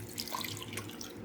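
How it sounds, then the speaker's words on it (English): Three cups of milk pour into a mixing bowl as a steady, close liquid stream with a soft gurgle, and no talk over it. "Next, we will add 3 cups of milk."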